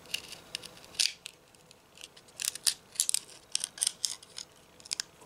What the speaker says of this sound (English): I'm gonna try to make a circular cut right here